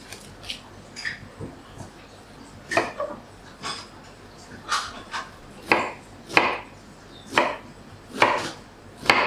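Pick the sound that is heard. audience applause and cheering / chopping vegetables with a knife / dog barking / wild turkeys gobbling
chopping vegetables with a knife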